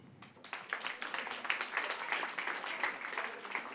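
Audience applause at a 2014 stand-up comedy show, a sustained crowd clapping that begins softly then swells into steady, fairly loud applause filling the whole stretch.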